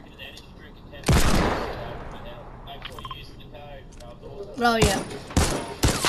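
Bursts of video game gunfire, a loud volley near the start followed by several sharp shots toward the end, with people talking excitedly over the action.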